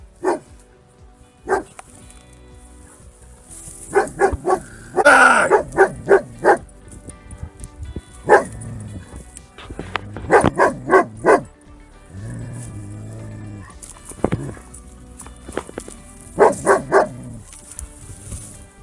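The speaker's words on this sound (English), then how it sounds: "the dog does everything possible to protect its owner and scare the cougar" A Labrador named Timber barks repeatedly in sharp, loud bursts and yips, facing down a cougar on a trail in Canada, with some whimpering between the irregular clusters of barks.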